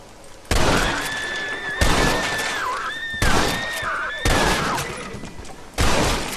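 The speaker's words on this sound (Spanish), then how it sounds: "Revienta a tiros las tablas del granero." Bursts of gunfire blast through wooden barn boards in Red Dead Redemption, five loud, sharp volleys spaced about a second apart with splintering crashes, while a whistling tone rises and dips in the background.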